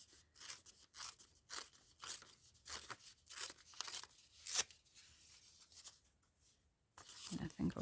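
A book page torn by hand to remove its straight edge for a trifold ephemera pocket, a run of close, papery rips and crinkles in uneven bursts, with a few louder tears near the end.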